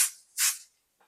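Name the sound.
spraying adhesive onto felt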